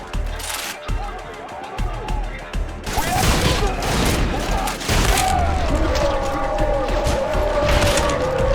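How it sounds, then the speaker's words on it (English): Proximity mines go off in the first-person shooter Trepang2, loud booming blasts and bursts of gunfire crashing over a dense, continuous game soundscape. "Thing in the middle of the screen followed by explosions is a proximity mine."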